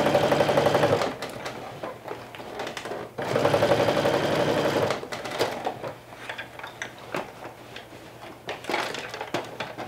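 Sewing machine stitching through the brim and side seam of a fabric bucket hat, running in two long steady bursts with a pause between, then shorter intermittent stitching runs.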